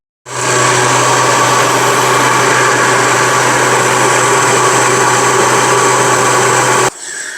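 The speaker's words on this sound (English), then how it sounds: "Blending again." An electric blender runs on tuna mousse mixture with white pepper and salt, a loud steady motor whine starting abruptly and cutting off near the end, no talk.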